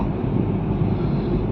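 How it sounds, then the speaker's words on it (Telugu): Strong wind roaring and buffeting the microphone, a constant low rumbling rush with no pauses. "అదిగోండి గాలి అసలు వస్తుంది చూడండి ఎలా వస్తుందో"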